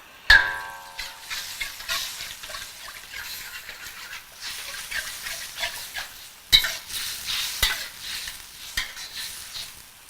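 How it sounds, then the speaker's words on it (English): Lobster being stir-fried in a boiling paste-based sauce, with a bright metallic clang followed by bursts of sizzling and repeated stirring scrapes in the pan, then another sharp clank partway through, no talking. "once it comes to the boil, we're going to re-add our lobster"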